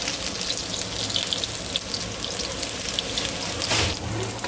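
Garlic drops into hot olive oil for a Lao squid stir fry, giving a steady crackling sizzle with a brief louder burst near the end and no voices over it.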